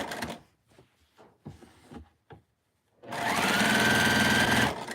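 A Juki 2010Q sewing machine runs in a steady, loud, continuous whir for about two seconds, following a stretch of scattered handling clicks and taps.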